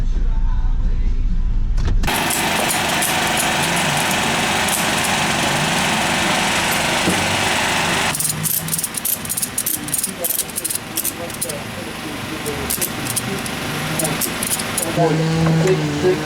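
A 2007 base Saturn Sky with a 2.4 liter engine roars loudly on a dyno for about six seconds after a quiet start, then drops to a rattling idle and winds down as people talk nearby.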